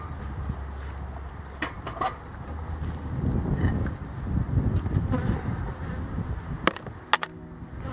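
Honeybees buzz at the hive in a dense, continuous hum close by, with occasional sharp clicks and bumps cutting through.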